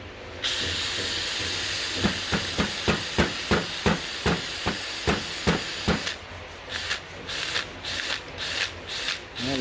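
A Snap-on cordless drill runs after a repair, its motor whirring steadily with a rapid regular clatter of clicks, then shifting to a choppier pulsing rhythm, loud and close, with no talk.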